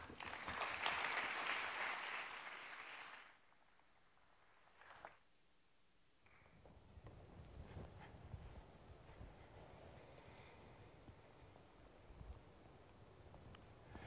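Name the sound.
audience applause welcoming a speaker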